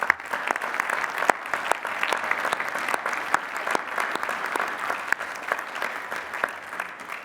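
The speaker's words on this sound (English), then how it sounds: "Please recognize the recipients of these degrees with our hearty congratulations and applause." Commencement audience at Lehigh University's 150th spring ceremony applauding degree recipients, steady mid-distance clapping from a large crowd with individual sharp claps popping out of the continuous patter.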